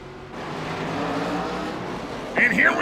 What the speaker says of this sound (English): You hear the engines revving